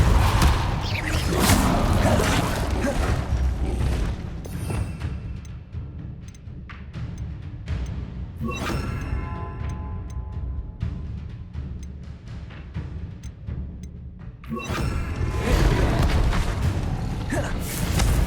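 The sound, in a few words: Confringo and Depulso spell blasts in Hogwarts Legacy video game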